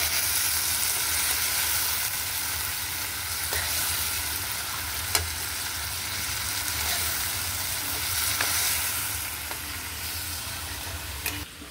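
A pork chop sizzles and spits steadily in a hot pan while it is stirred and turned, with a few sharp scrapes and pops over the constant frying hiss.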